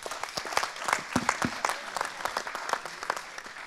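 Audience applause at a startup contest in Lorient, steady clapping from many hands with sharp individual claps standing out, fairly close and filling the whole moment with no talk over it.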